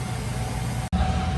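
A kitchen vent hood motor on a commercial hood system runs with a steady, close mechanical hum and airy whoosh, dropping out for a split second before resuming at the same level.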